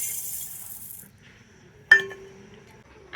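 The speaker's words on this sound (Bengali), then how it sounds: "আর এই চালটা এখন আমি মিক্সি জারের মধ্যে নিয়ে নেব" Raw Gobindobhog rice poured into a mixer grinder jar: a soft grainy hiss for about a second, then a single sharp clink against the jar.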